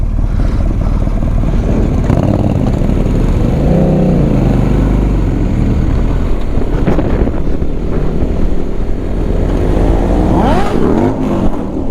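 Motorcycles riding along winding Ardennes roads in Belgium, heard as a loud continuous engine drone with rising and falling revs, buried under heavy wind buffeting on the microphone throughout.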